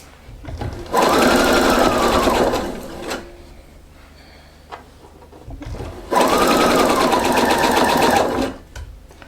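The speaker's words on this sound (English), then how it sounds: "she's sewing with a straight stitch" A sewing machine running a straight stitch on a cardigan, with two loud, steady bursts of rapid mechanical whirring, each about two seconds long, close up and separated by quiet handling sounds.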